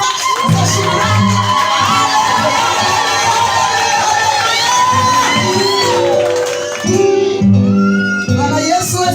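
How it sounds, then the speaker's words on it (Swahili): A church congregation at a Sunday praise service shouts and cheers loudly, a dense wall of whoops and yells over amplified music, briefly dipping before rising again. "Piga kelele za shangwe,"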